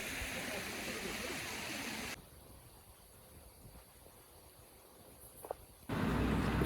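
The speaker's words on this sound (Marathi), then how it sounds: "वाहतं पाणी आहे" Flowing stream water near a waterfall in Palghar sends up a steady broadband rush that is loud at first, drops to a quieter hiss, then swells back to full strength.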